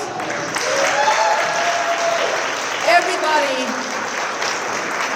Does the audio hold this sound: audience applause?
yes